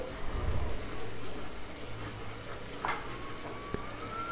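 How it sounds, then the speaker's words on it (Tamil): Masala powder frying in oil for a pressure-cooker mutton gravy, a continuous low sizzle with light stirring clinks and a thin high whine, alone without talk. "இதெல்லாம் போட்டு இந்த எண்ணெயிலேயே கொஞ்ச நேரம் அந்த மசாலா பொடியெல்லாம் வதங்கணும்."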